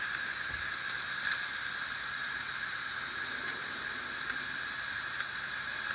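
Steam hissing steadily out of an Instant Pot's pressure-release valve after cooking Coca-Cola pulled pork, a continuous bright, airy rush that stays at an even level with no talking.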